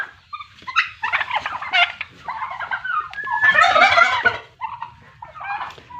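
Several turkeys on a turkey farm gobble loudly in overlapping bursts, close by, with short pauses between rattling calls and no talking.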